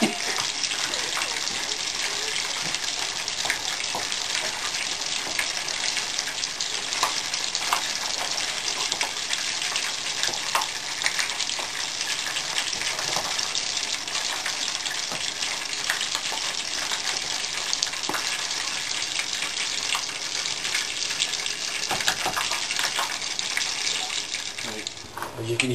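Pakora batter frying in hot oil, a steady close sizzle and bubbling that runs evenly throughout with faint spitting, no talk over it.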